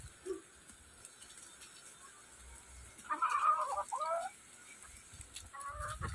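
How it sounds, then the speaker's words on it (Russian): Backyard chickens in a fenced garden enclosure under a plum tree, with a few soft clucks near the middle of the take over a quiet outdoor background. "Вот так живут наши курочки."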